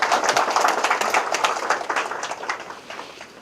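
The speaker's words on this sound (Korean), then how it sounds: "생일 축하 박수 한번 부탁드립니다" Office staff give a birthday round of applause: dense, steady clapping from a group in a room that gradually softens and thins out.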